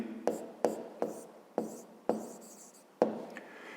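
Pen strokes scratch across paper while a fifth-grade math exercise is written out, a series of six or seven short, separate scribbles, close and quiet, each starting with a sharp onset and fading.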